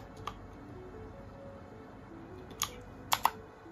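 Keys pressed on a Fantech MK855 mechanical gaming keyboard give a few sparse, close clicks, with a quick double press near the end, over a quiet room background.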